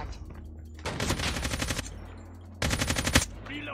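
Two sharp bursts of rapid automatic AK47 fire ring out in the mobile shooter Call of Duty Mobile, each about a second long and loud, separated by a brief lull of quieter in-game background sound.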